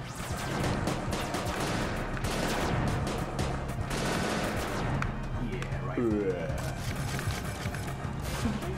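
Rapid rifle fire from a shooter video game rattles in dense, continuous bursts, loud and sustained for several seconds with barely a pause between volleys.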